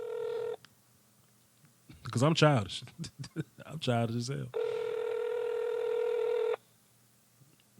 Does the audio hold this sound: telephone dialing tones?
yes